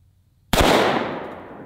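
A single sharp gunshot from a .45 Long Colt revolver fired with roughly century-old ammunition, a sudden loud crack with a long rolling decay and no talk around it.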